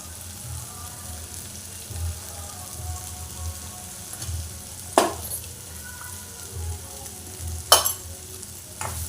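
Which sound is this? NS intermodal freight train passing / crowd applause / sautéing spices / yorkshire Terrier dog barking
sautéing spices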